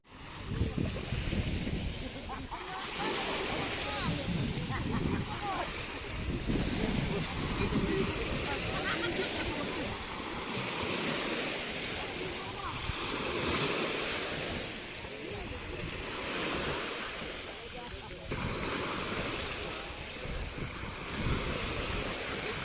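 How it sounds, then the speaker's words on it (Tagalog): Strong sea waves at Laiya beach in Batangas roll and crash in repeated surges, a loud, continuous wash of surf heavily buffeted by wind noise on the microphone. "Lakas ng alon."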